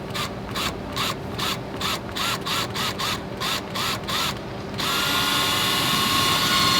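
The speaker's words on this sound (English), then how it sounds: "It's a little bit scary to drill a hole in the outside of your RV or your fifth wheel or your travel trailer" A drill bores a hole through the fiberglass outer wall of an RV, first as a rapid run of about a dozen short rhythmic bursts, then as one continuous, louder whirring spin up close.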